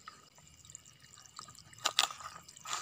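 Water trickles and drips onto chili and tomato plants being watered in a garden, faint and soft at first, then a few louder splashy spurts near the end, with no talking.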